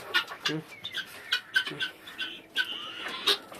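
Thirteen chickens in a coop cluck and chatter in short, overlapping bursts, fairly close, with a busy, uneven rhythm throughout.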